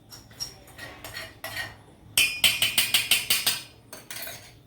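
A metal utensil scrapes and clanks as fried ingredients for a peanut and chickpea pickle are moved into a pot: a few light taps, then a quick run of sharp, close, evenly spaced metallic scrapes.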